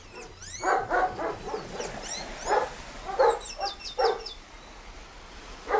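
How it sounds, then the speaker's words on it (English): Several dogs bark and yip excitedly in repeated bursts, fairly close, with a few bird chirps and whimpers mixed in over an outdoor background. "Oh, lots and lots of dogs."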